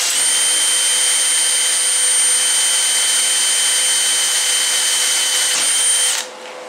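A Dremel rotary tool fitted with a small grinding stone, set to medium speed, grinds inside a steel fire pit ring with a steady, loud, high-pitched whine that stops abruptly near the end.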